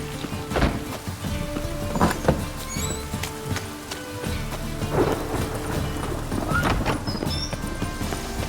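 Rain pours steadily in The Witcher 3 with rumbles of thunder rolling through, alongside rhythmic horse hoof clip-clops, loud and continuous with no talking.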